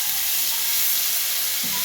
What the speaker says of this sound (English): And then we fry this for like a minute.